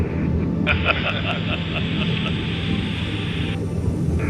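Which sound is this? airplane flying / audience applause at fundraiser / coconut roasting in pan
airplane flying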